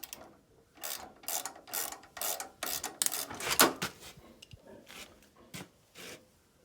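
A ratchet wrench tightens a bolt on a VW Beetle alternator, giving repeated bursts of clicking strokes with short pauses between them, close up and with no talk.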